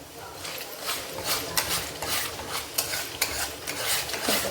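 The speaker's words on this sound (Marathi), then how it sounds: "पूर्ण मसाला भाजून घेऊया." Garam masala roasting and being stirred in a pan, with a steady dry sizzle and repeated scraping strokes of a spoon against the pan in an uneven rhythm, up close.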